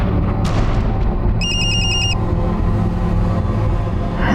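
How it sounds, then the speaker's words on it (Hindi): A phone ringtone plays one short, bright electronic tone burst over a constant rumble of vehicle-like background noise. "जरा ये रिंगटोन सुनना"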